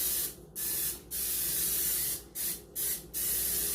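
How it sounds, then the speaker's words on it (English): Pan cooking spray hisses onto baking pans for muffins and a carrot loaf in several close bursts, one long spray followed by shorter ones broken by brief pauses. "I like to use a pan cooking spray."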